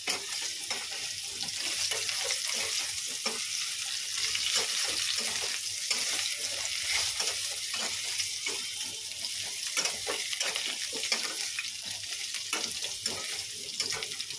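A ground paste of poppy seeds and green chillies fries in a pan with a steady, soft sizzle and crackle at close range, punctuated by faint stirring scrapes, with no voices.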